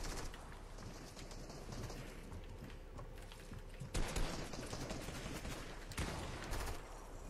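Rapid gunfire from a shooter video game, with dense crackling bursts over a constant background and two sharper volleys partway through and near the end.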